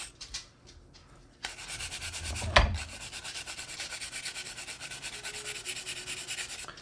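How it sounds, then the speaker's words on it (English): Stiff grill brush scrubbing hard over an old, fully rusted hand tool after a vinegar soak, a steady close rasping rub with a sharp clack partway through, no talking. "It's a grill brush, but it works really well for doing this"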